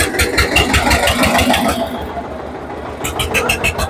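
A Swaraj 855 tractor's diesel engine runs steadily at close range at a tractor market, a low rumbling chug that continues throughout, with a brief higher-pitched hiss partway through.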